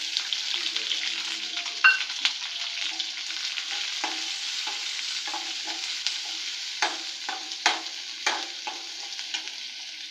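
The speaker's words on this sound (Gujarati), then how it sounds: "લસણ લાલ થઈ ગયું છે હવે મરચાં નાખી દઈએ" Garlic and chilies frying in hot oil while being stirred, a steady close sizzle with scattered scraping and clinking of the spoon against the pan throughout.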